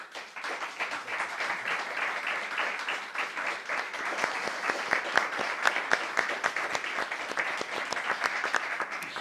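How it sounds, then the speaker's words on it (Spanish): A conference audience applauds a round-table panel on sport as a tool for integration, with sustained, even applause from many hands holding steady and swelling slightly near the middle, heard at moderate distance with no voices over it. "Bettina, Juan, Santiago, un aplauso enorme."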